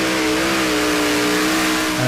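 A modified tractor in a 3.5-ton tractor pulling contest roars at full throttle, a loud, sustained, steady engine howl heard up close with no pauses.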